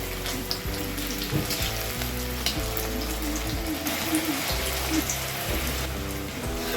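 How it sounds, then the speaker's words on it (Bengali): Ash gourd pakoras deep-fry in hot oil with a continuous crackling, rain-like sizzle and a low steady hum underneath. The sound stays close and fairly loud throughout. "এইভাবে আমি পকোড়াগুলোকে বারবার উল্টে ভালো করে মুচমুচে করে ভেজে একটা পাত্রে নামিয়ে দিব"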